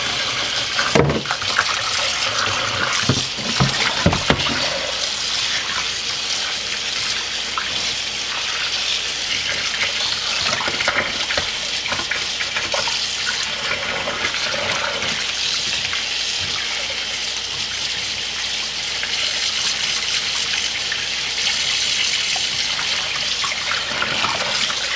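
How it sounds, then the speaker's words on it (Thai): Pork stomach being rinsed under a steady stream of running tap water, a continuous splashing flow into a sink with brief louder sloshes near the start, no voices. "เราก็จะล้างนะคะทำความสะอาดนะคะด้วยเกลือนะ"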